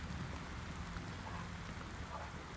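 Steady, faint rain falls throughout as a continuous soft hiss with scattered patter, no other sounds standing out.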